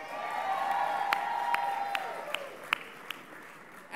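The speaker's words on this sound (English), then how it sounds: "Let's give another big round of applause for Yolanda." Rally crowd in Houston applauding and cheering, starting as dense steady clapping and fading out, with a few sharp individual claps and whoops near the end.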